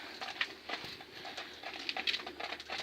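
Turtle doves cooing nearby in repeated soft, throaty phrases, with light pattering and rustling in between.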